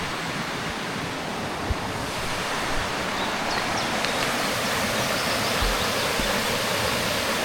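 The Stanhope Burn spills over its cascades near an old bridge, a loud, continuous broadband rush of flowing water that fills the whole scene without any pause.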